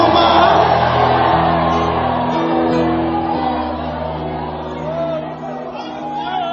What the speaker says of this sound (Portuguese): Posso ouvir mais um grito de glória a Deus de alguém que está atravessando o mar?